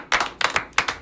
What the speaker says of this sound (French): Nous avons applaudi comme ça.